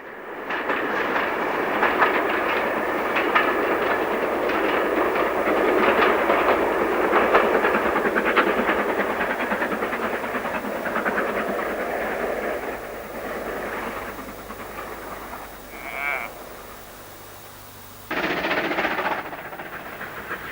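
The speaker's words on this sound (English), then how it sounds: "Here, a Black 5 with a parcels train negotiates the Loon Gorge." An LMS Stanier Black 5 steam locomotive hauling a parcels train rumbles through Loon Gorge with steady rhythmic clatter of wagons, loud and close, fading somewhat before a brief hiss and a final burst of noise.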